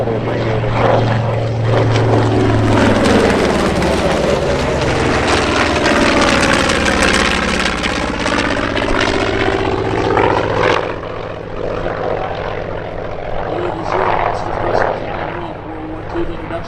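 A WWII propeller fighter, among them a Grumman Hellcat, roars close past on a low dogfight pass, its engine note swelling loud and sweeping in pitch as it flies by, then fading into a steadier drone.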